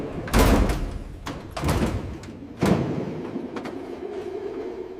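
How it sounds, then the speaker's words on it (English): Train carriage doors slam in three heavy thuds spaced about a second apart over a dull rumbling background, close and loud. "The doors slammed shut again."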